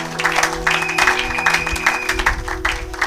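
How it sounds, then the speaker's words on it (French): A church congregation applauding in worship, dense sustained clapping from many hands with a crowd murmur and sustained tones underneath, loud and close throughout. "Acclamons pour la gloire de notre Dieu"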